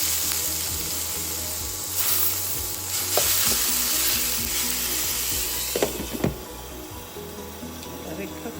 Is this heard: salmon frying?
yes